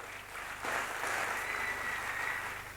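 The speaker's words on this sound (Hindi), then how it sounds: "तो एक बार फिर से कल्पेश भाई के लिए जोरदार ताली हो जाए।" Audience applause at a business talk, a brief swell of clapping that rises quickly, holds for a couple of seconds and fades, moderately distant.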